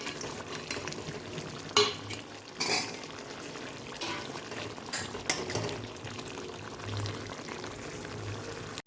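Vetki fish curry gravy bubbling in a pan on the stove, a steady low simmering hiss with a few sharper clinks and scrapes, no voices.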